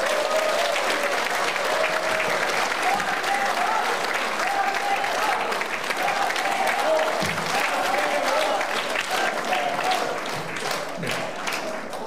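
A lecture audience of lawyers and citizens in Busan welcomes a speaker with sustained, dense applause, steady and loud throughout, with a few voices calling out over the clapping.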